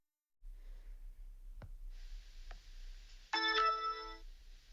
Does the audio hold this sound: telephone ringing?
yes